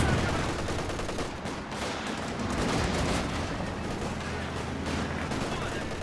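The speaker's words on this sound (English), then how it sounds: "I hear some tulip rockets" Tulip rockets firing amid a battle in the strategy game Company of Heroes 2, a dense roar of whooshing launches, explosions and rattling gunfire mixed with a commentator's voice talking over the action.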